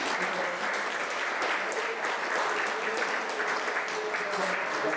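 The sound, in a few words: audience applause at a town hall meeting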